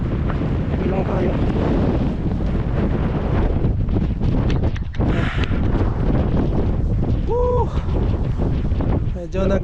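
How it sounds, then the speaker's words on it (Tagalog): Strong wind roars over a phone microphone outdoors during snowfall on a Canadian street, a loud continuous buffeting rumble with gusts that rise and fall, and someone talks briefly beneath it. "Malakas ng hangin."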